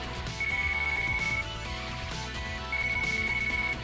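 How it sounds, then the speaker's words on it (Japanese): A telephone rings in Yakuza: Dead Souls in two long electronic trill bursts separated by a short gap, over a continuous game music backdrop. "電話だ。"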